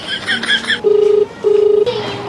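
A phone is dialed, with a few quick high electronic key tones, then two long steady ringback tones with a pause between, heard close amid faint background hiss.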